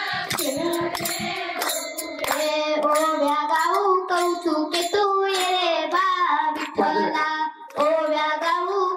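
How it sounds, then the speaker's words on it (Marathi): A men's group claps along during devotional kirtan singing, steady rhythmic hand claps sitting under continuous loud group vocals throughout. "पुरुष मंडळ तुम्ही टाळी वाजवायची"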